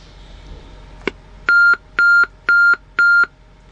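A Qualcomm phone alarm beeps at medium volume, four evenly spaced electronic beeps about half a second apart, loud and clear after a quiet lead-in with a small click.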